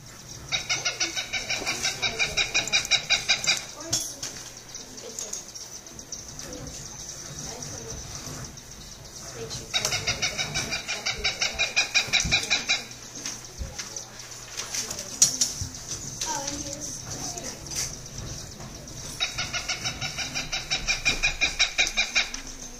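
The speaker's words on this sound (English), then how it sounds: "This is what the Cooper's hawk's call sounds like." A Cooper's hawk gives a rapid, repeated cackling call in three bursts of clipped notes, separated by quieter stretches of background sound.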